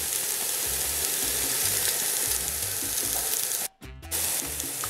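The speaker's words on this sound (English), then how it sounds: "I'm gonna add some Lawry's seasoned salt with pepper to bring out the flavors. And then I'm just gonna allow this to saute down." Minced garlic sizzles steadily as it sautés in a hot pan, a loud continuous frying hiss that briefly drops out near the end before resuming.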